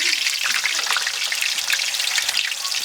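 Potatoes fry in a pan of hot oil for a lamb biryani, a dense, bright, crackling sizzle that stays steady and close throughout, with no talking.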